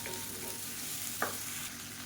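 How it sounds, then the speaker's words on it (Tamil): Chopped onions and tomatoes sauté in a pan with a soft, steady sizzle and one brief stir scrape. The sound is faint and close, with no talking. "இப்போ இதையும் சேர்த்து நல்லா வதக்கிக்கலாம்"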